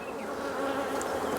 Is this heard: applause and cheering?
no